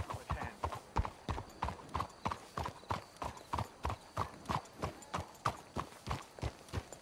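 Horses' hooves clip-clop in Red Dead Redemption 2 as several horses keep a steady, even trotting rhythm throughout, fairly close but at a moderate level.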